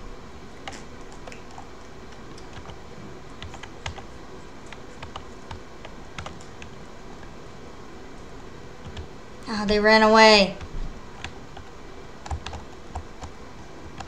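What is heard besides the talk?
computer keyboard typing in video game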